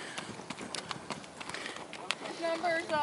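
A bay roan gaited gelding moves with soft, rapid hoofbeats in a steady clip-clop rhythm at moderate distance, with a voice speaking near the end.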